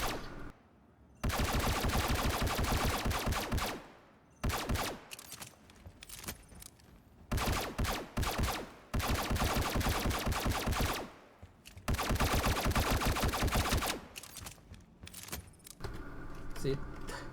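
Bursts of rapid automatic gunfire from a high-rate-of-fire weapon in the Star Citizen game, loud and dense, coming in several long volleys separated by short pauses.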